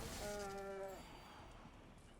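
Cartoonish cow moo sounds as the Holy Cow card is flashed in during a Magic: The Gathering digital draft, a single drawn-out harmonic low at the start fading into faint game ambience.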